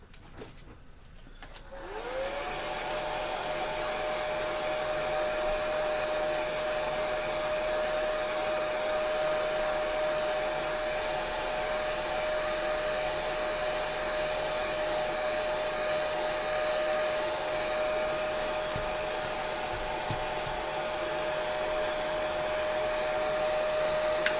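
A blow dryer starts with a click and then blasts steadily to dry paint, a loud, constant close whine with a steady tone that holds without pause.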